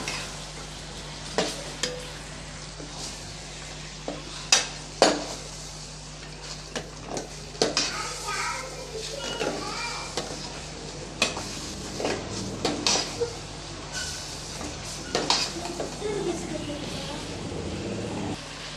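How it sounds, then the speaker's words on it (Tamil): A spoon stirs chicken and masala in a pan for chicken dum biryani, giving irregular scrapes and clinks against the metal over a low, steady sizzle. "இப்போ மசாலாவோட சிக்கனை வந்து நல்லா கலந்து விட்டாச்சு"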